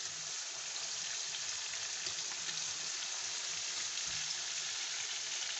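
Fish frying in hot oil in a pan gives a steady, even sizzle that continues unbroken, close and moderately quiet, with no voices.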